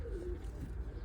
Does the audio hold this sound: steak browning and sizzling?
no